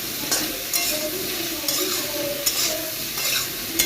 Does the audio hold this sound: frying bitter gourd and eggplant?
yes